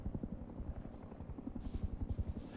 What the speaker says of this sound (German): Ach nee, das ist der NPC-Heli,